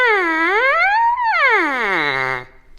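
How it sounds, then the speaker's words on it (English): Lips buzzing into a bare trumpet mouthpiece, close and clear: a reedy tone swoops down, rises slowly, then slides down again in a long siren-like glide before stopping abruptly. "you play the trumpet by buzzing your lips into it"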